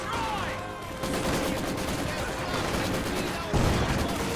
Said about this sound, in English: I'm going to push forward with the machine gun here.